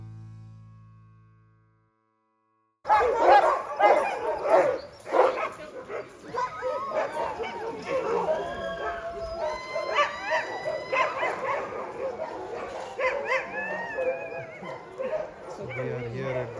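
Sled dogs at a ranger-led demonstration in Denali National Park, Alaska, bark, yip and whine in an excited, overlapping chorus. The noise starts abruptly after a quiet moment and stays loud and close throughout.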